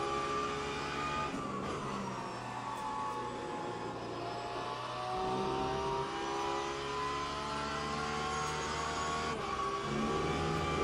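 A Porsche race car engine in the Le Mans Ultimate sim racing game, driven at Spa, drones and revs continuously with gear shifts and shifting engine pitch, moderately quiet.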